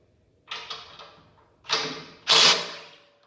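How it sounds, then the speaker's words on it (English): A bolt comes out of a Ferris mower chute in three short mechanical bursts of ratcheting and clicking, each louder than the one before, with quiet pauses between them. "Now there's a bolt right here. We need to remove that bolt."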